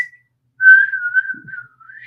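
One person whistles a single sustained, wavering tone for about a second and a half, then adds a brief higher note, clear and alone in a quiet space.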